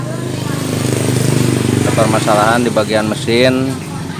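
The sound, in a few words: Yamaha Mio GT FI motorcycle engine running rough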